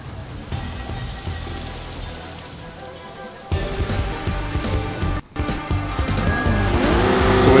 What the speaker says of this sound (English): So we got a real fast car.